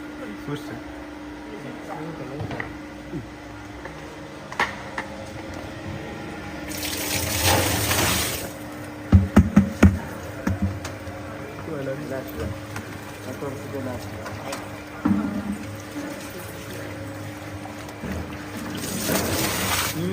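A mixing machine churns salted, chopped mango pieces with pickle gravy in a bulk mango pickle workshop, giving a steady mechanical whir with wet sloshing and clattering bursts midway, close and continuous.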